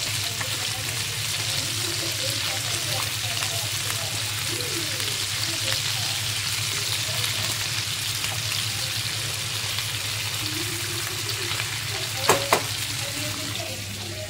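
Fish sizzle and spatter steadily in hot oil in a pan, a dense continuous crackle with a low hum under it and a couple of sharp clinks near the end.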